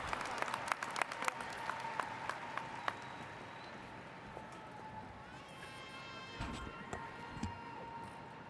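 An audience applauds at a school district graduation ceremony, with broad sustained clapping from a crowd heard at a distance and scattered sharper claps throughout.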